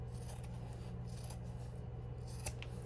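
Scissors snip through covering material for a lap-book in a few quick, faint cuts over a steady low background hum.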